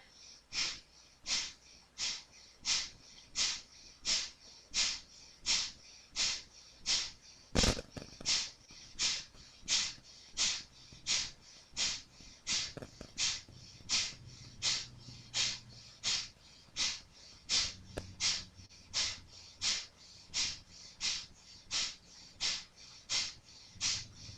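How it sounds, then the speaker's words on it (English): Rapid rhythmic panting breath through the nose during a Kundalini yoga breathing exercise, a steady run of sharp, evenly spaced sniffing exhales and inhales, close and alone throughout. "Panting like a dog through the nose. Rapid inhale and exhale."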